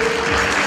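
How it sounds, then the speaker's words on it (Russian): Dense applause from an audience at an awards ceremony for the first winners of an annual regional competition, a brief steady burst of clapping heard on its own. "Аплодисменты первым победителям!"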